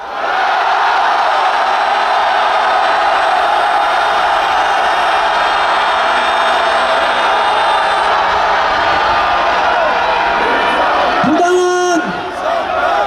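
A large rally crowd shouts and roars together in one loud, steady swell that fills the space, then dips briefly near the end.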